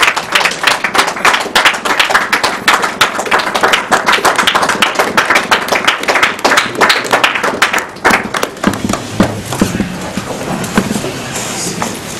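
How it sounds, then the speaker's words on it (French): A standing audience at a Congolese women's day event in Brussels applauds loudly with dense, sustained clapping that thins toward the end, with some voices mixed in. "je vais demander à tout le monde de vous applaudir, de se lever et de vous applaudir"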